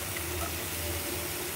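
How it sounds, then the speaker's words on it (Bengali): Onion and garlic frying in a small amount of oil in a pan, a steady close sizzle and hiss holding evenly throughout with no talking. "পেঁয়াজ আর রসুন ভাজি"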